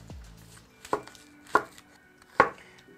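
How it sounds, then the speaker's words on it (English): A knife chops an onion into small pieces on a board: four sharp, separate thumps spaced roughly half a second to a second apart, close and clear with no talk. "We'll chop it on small pieces just to get the juice out."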